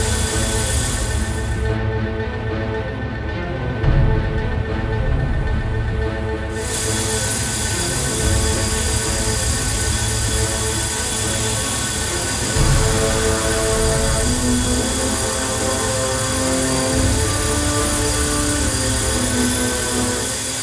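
A 450-size RC helicopter hovers close by, its steady high-pitched rotor and motor whine holding a continuous, even drone throughout with small swells in pitch.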